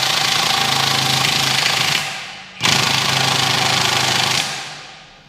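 A powered wrench loosening wheel nuts on a Ford 5 tractor, two loud, continuous rattling hammering bursts close by, split by a brief pause, the second trailing off at the end.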